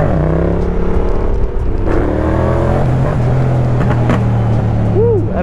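Yamaha MT-07 motorcycle engine revving hard with rising and falling pitch, loud and close, with crackling exhaust pops through the throttle changes.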